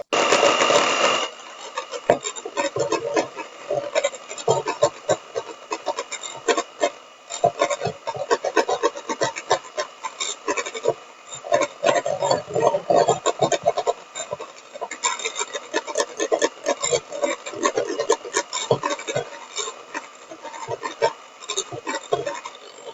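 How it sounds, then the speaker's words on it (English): Cream is whipped directly in a small jug, giving a continuous rapid whirring and rattling that stays close and fairly loud for the full stretch, with a slight change in texture partway through and no talking. "do it directly into like a small jug like this, it whips up within about a minute"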